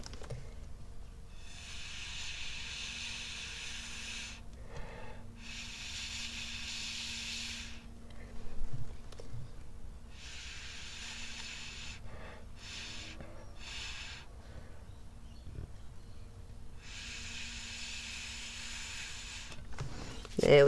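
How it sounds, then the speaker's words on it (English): Air is blown in several long bursts onto wet acrylic pour paint to spread the centre of a bloom, breathy hisses of a few seconds each, separated by pauses with light handling noise. "now we'll blow a little bit of that center out"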